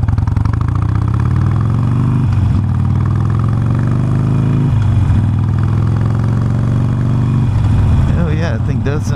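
A Harley-Davidson Sportster motorcycle fitted with aftermarket exhaust and a stage 1 air filter kit idles and revs with a loud, steady, throaty rumble, swelling in a few blips across the stretch.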